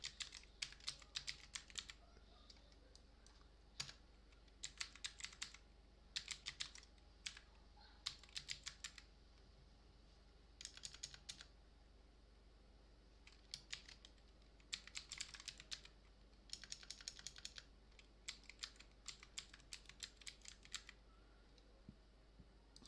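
An email address typed on a computer keyboard while setting up a broker account, heard as short bursts of rapid key clicks separated by pauses, quiet and close over a low steady hum, with no talking.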